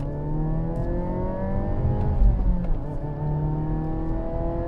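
A 2024 Hyundai Elantra N sedan under a full-throttle pull, its engine note a steady, loud rising drone with rich harmonics and a brief swell midway, heard from inside the cabin with no talking.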